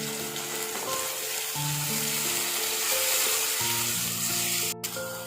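Tomato paste frying in a fish curry pan for meen kulambu gives a constant close sizzle that lasts the whole stretch, with background music and a brief knock near the end.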